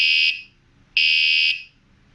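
Two identical loud, high electronic beeps sound in succession with a brief pause between them, each about half a second long.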